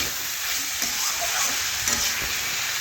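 Mixed vegetables for a simple vegetarian ghat sizzle steadily in a pan, with occasional scraping stir strokes breaking through the continuous frying hiss, close and fairly loud.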